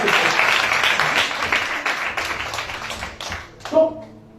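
A church congregation breaks into loud, sustained applause with cheering, the clapping thinning out near the end as a preacher's voice carries over it.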